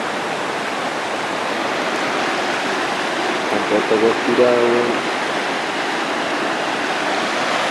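A river flows steadily beside a campsite in the middle of nowhere, a broad constant rush of water running through the whole stretch while someone speaks briefly over it.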